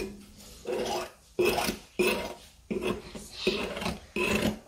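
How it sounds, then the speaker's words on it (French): A sharp knife trims excess pastry along the rim of an apple tart mold, making a series of about six close, raspy scraping strokes with short pauses between, no talking. "à l'aide d'un couteau bien aiguisé, donc on va faire des belles finitions. Je vais tout simplement passer mon couteau de cette façon."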